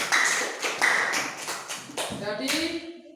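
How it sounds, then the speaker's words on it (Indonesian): A classroom of students claps briefly, a short burst of a few hands with some shuffling and a voice in the background. "Berikan tepuk tangan dulu."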